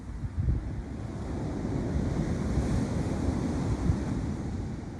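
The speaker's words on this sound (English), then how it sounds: "hopefully the wind noise isn't too bad, but it is really blowy" Strong wind buffets the microphone with a constant low rumble on a North Sea beach in April, waves and surf washing beneath it, no voices.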